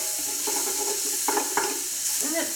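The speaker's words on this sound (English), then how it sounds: "when all you're doing basically is cooking an onion" Two chopped onions softening in a pot: a steady close sizzle broken by a few scrapes and clinks of stirring.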